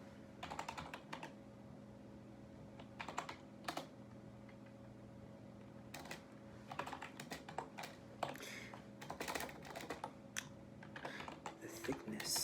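Computer keyboard typing, a close, quiet run of irregular key clicks and bursts with pauses between, a faint steady hum beneath.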